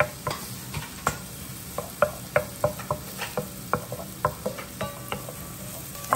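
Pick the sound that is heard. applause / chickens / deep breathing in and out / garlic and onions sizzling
garlic and onions sizzling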